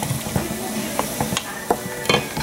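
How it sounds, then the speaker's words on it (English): Cooked hamburger, onions and pasta are stirred in a pan, a soft scraping shuffle with short spoon clicks and taps against the pan, close and fairly quiet, with no talking. "Mix this up."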